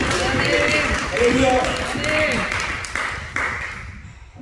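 A church congregation claps together during a revival service, a dense wash of applause filling the room while a voice calls out over it, the clapping tapering off near the end.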